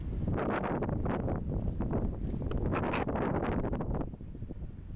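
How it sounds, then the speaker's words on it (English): Steady wind blowing across an open bay at Starvation Bay, a continuous broadband rush with gusty fluctuations and buffeting, easing slightly near the end. "It's a little bit more windy here."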